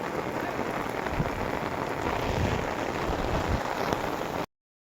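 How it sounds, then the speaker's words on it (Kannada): Steady rain pours down, hissing densely on surfaces with scattered heavier drops, loud and constant before cutting off abruptly. "ಮಳೆ ಬಂದಿದೆ"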